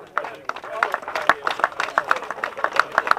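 Applause for the H6 category winners at an FRT rally awards ceremony, a crowd clapping in quick irregular bursts that swell and hold steady, with a voice over the start.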